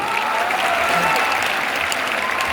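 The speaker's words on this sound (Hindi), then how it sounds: "आप लोग तालियों के साथ इनका स्वागत करेंगे" An audience at a motivational event in Motihari claps to welcome the organiser and his team, steady sustained applause from a large crowd with a faint murmur of voices.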